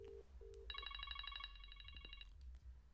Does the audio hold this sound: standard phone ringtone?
yes